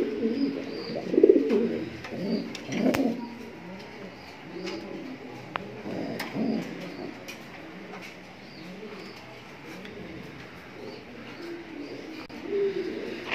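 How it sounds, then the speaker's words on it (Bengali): Grizzle racing pigeons of the Afshan line, with a cock bird perched in a clay pot, coo repeatedly at close range in soft, rolling phrases with occasional faint chirps. "হাড়িতে বসে আছে নর কবুতরটা"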